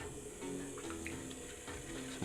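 Water poured onto clay on a spinning pottery wheel during a pottery demonstration, a close, steady splashing trickle over the low hum of the wheel motor.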